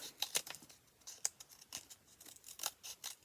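Scissors snip through squashed recycled material to cut flower petal shapes, a series of quick, close crisp cuts in an uneven rhythm with faint rustling between.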